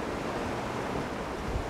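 Sea waves washing onto the beach at Livorno make a steady, broad rushing hiss with some wind noise, continuous and fairly close, with no voices.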